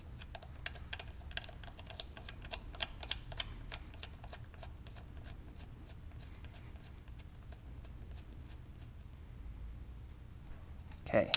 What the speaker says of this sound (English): Now we can screw this in.